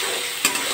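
Spice paste frying in hot oil for a banana-flower fritter curry, a steady bright sizzle with a single quick stir-scrape partway through, close and alone.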